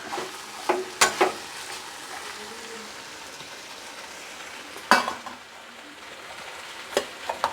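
Boiled potato pieces and paneer go into a pot of vegetable biryani and are stirred in, giving a low steady hiss broken by a few sharp spoon clinks and scrapes against the pot, with no one talking.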